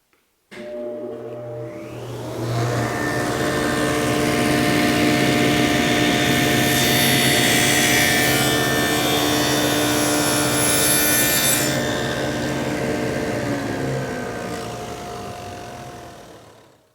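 A table saw fitted with a dado stack cuts 3/4 inch dados in wood for a bathroom vanity, a loud steady whine and rasp that spins up, holds through the cut for about twelve seconds, then winds down, with no talking.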